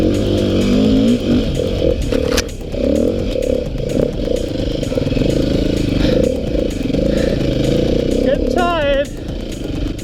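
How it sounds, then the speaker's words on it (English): Beta RR480 dirt bike engine working through an enduro hill climb, a loud buzzing, revving drone with rising and falling pitch and clattering mechanical noise, close up and continuous. "Now, the RR480 is even better at hill climbs and technical riding."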